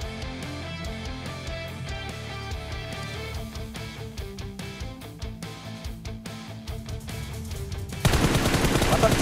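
Gunfire in PUBG Mobile during an esports match, rapid, repeated automatic bursts against a busy game soundscape, with a loud, harsh wash of noise in the final second.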